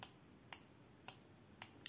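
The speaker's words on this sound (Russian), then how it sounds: "Оригинальная ручка имеет четкий звук включения." Sharp, crisp clicks from a Xiaomi Mijia ballpoint pen clicking on and off, three or four evenly spaced snaps against near silence, close by and fairly quiet.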